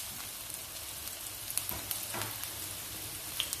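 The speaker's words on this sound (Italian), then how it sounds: "poi aggiungiamo in padella i peperoni" Bell peppers frying in oil in a pan, a quiet, steady sizzle with a few soft pops and stirring clicks, heard close up without any voices.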